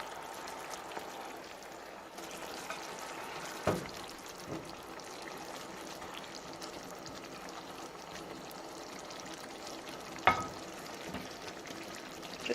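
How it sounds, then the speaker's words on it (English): Chicken pieces with sliced lemon sizzle quietly in a pan on low heat, a soft steady frying hiss with a couple of brief clinks and scrapes. "you can start adding your chicken pieces"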